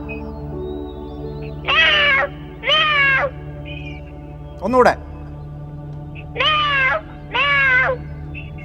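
A voice imitates a cat, giving four drawn-out meows in two pairs, with a brief spoken word between them.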